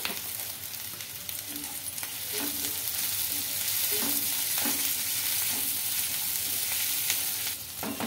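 Onions fry in a pan with a little salt, a steady close sizzle that grows slightly louder midway, with repeated light scrapes of stirring and no voices.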